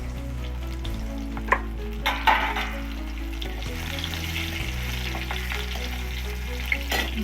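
Dried and green chilies, bay leaves and cardamom hit hot caramelized sugar and oil in a pan, giving a loud, continuous sizzle with a few sharp spits and stirring clicks, close up and with no talk.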